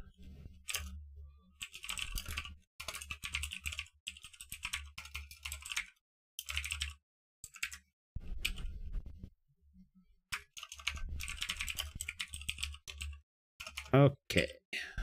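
Computer keyboard typing in bursts of quick clicks and ticks, with pauses between runs, heard close up under a speaking voice.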